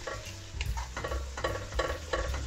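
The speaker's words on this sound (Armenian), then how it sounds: "և տոմատի մածուկը կտապակենք 1 րոպեի չափով" Tomato paste fries in a pan for a meat and vermicelli soup, with rhythmic spoon strokes scraping and stirring through a soft sizzle, close and steady, with no talking.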